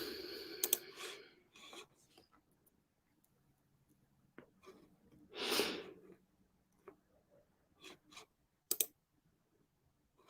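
A computer mouse clicking in a quiet room, scattered single and paired clicks spread irregularly over several seconds, faint and close, with a soft breathy rustle in the middle and no talk.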